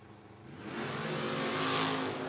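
Drag race launch at a no-box 660 shootout as a 1966 Nova and a 1979 Camaro leave the line, engines rising from a moderate rumble into a loud, sustained roar.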